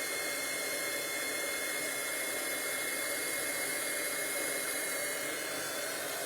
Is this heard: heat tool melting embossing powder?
yes